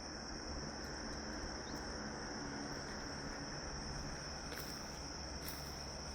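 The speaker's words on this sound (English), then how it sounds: "The sounds of the frogs and the crickets and the critters out here" Crickets and frogs chirp at night around a rural cabin property: a constant, faint, high-pitched insect trill that continues without pause and has no talking over it.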